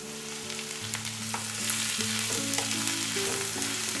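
Mushrooms stir-frying with vegetables in a pan, a steady moderate sizzle with occasional stirring clicks beneath faint sustained background tones.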